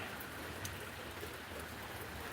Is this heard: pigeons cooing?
no